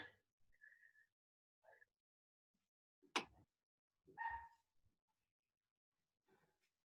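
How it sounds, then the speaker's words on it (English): A dog barks in the background of a live home workout session, giving a few short, faint yips and barks, scattered and distant, with quiet gaps in between. "That was a dog and not person."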